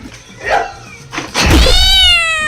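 A person imitates a cat, producing a loud, drawn-out, wavering meow-like wail that rises after a couple of shorter vocal sounds and a dull thunk, close to the microphone.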